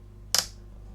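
A single sharp plastic snap as a clip on a never-opened Sony soundbar casing cracks loose during prying, close and brief, with a short decay, then quiet.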